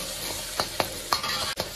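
Minced meat sizzles in hot oil in a wok that has just fried Sichuan peppercorns, a steady crackling hiss broken by a few sharp scrapes of stir-frying.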